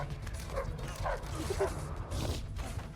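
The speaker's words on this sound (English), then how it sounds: "The dogs show up." Dogs yip and bark in a kung-fu movie scene, heard under dense background noise and voices, with scattered short barks rather than steady barking.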